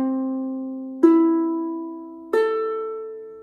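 Single ukulele strings are plucked one at a time, each clear note ringing and slowly decaying before the next pluck, with three distinct tones heard up close and alone.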